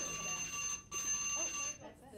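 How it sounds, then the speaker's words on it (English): A timer alarm goes off at the end of a legal-technology conference session. It is a steady, piercing electronic beeping that runs through the whole moment with one brief break, while people talk underneath. "That was my timer."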